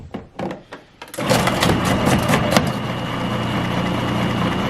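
An electric potato peel and dice machine runs with a steady, loud mechanical whir after a few brief knocks and clatters at the start, continuing without pause.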